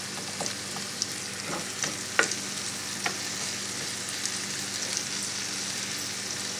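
Onions frying in a pan for a wild burdock and milkweed stir-fry: a steady bright sizzle throughout, with a few sharp crackles and pops scattered across it, close and moderately loud with no voices.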